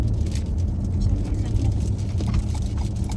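Road traffic heard from inside a car stuck in heavy traffic on the way to the airport in Riyadh. A low, steady engine and road rumble runs throughout, with people talking over it.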